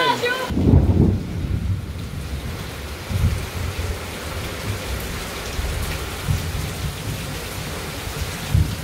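Rain pouring in the Brazilian sertão with thunder, a steady dense hiss under low rumbles that swell and fade several times, the loudest roll near the start.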